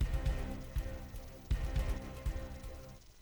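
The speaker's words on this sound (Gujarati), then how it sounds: "તો ધોરાજીમાં રાતના સમયે ધોધમાર વરસાદની શરૂઆત થઈ." Heavy rain pours at night in Dhoraji, a steady, dense, fairly loud patter and hiss with no voices over it.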